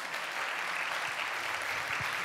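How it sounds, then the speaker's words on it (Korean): A church congregation applauds to welcome newcomers during a Sunday morning worship service, producing steady, dense clapping from many hands that holds evenly throughout with no talk over it. "또 이분들에게 잠깐 또 환영과 따뜻한 격려의 박수 보낼게요"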